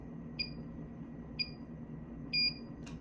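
Three short, faint electronic beeps from a pump controller spaced about a second apart, the last slightly longer, over a low steady mechanical hum.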